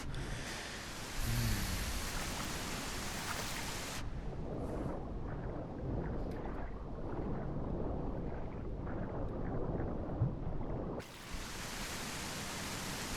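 Heavy nighttime rain falls in The Isle video game, a dense hissing wash that cuts in and out abruptly, with low rumbling underneath and no speech.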